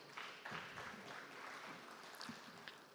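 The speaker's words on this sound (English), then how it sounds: "Please, let's give him a round of applause." Light, scattered applause from a conference audience at the Africa Agriculture Dialogue 2025, a thin patter of claps with a few louder individual hits, fairly faint and uneven.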